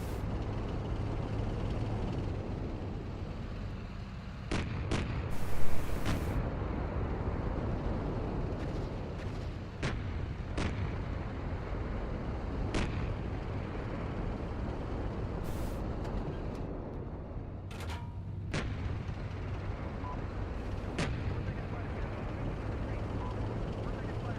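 Tank gunfire and artillery in the simulator game Steel Beasts Pro: sharp shots and booms, some distant, crack out at irregular intervals over a steady engine-like rumble, with faint voices in the background.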